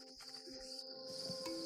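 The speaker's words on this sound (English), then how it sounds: "there are more than 1 million house crickets chirping just like in Provence." More than a million house crickets in trays at a 650 square meter insect farm make a faint, steady, high chirping drone with a soft background hum.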